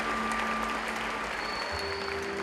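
Audience at a Christmas cantata applauding warmly, dense continuous clapping from a large crowd at a moderate distance, with a faint tone lingering underneath.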